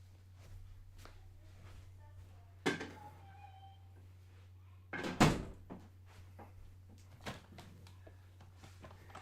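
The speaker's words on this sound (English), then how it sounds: "Let me shut my door because I think family's here." A bedroom door in a house is shut, giving a sharp thump, with a couple of other knocks and footsteps around it over a low steady hum.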